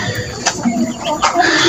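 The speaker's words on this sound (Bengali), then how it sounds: "এটা টাইগার মুরগি, এটা একটা মোরগ" A tiger chicken hen and a rooster cluck close by in short bursts, with a few brief calls and a voice mixed in.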